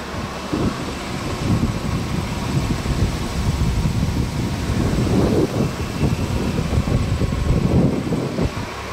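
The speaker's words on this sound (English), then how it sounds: "It's super windy out." Strong wind gusting outdoors on a farm during harvest preparation, a steady broadband rush with low rumbling buffets against the microphone lasting throughout, loud and continuous with no talking.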